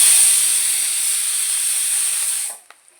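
Curry leaves crackle and sizzle hard in hot oil for a pickle made with raw green mango, a loud steady hiss that cuts off abruptly near the end, leaving a couple of faint clicks.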